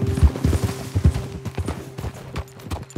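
Horse hooves clip-clop in a quick, uneven run of thuds in Red Dead Redemption 2, loud at the start and fading into lighter steps, with a steady low hum underneath.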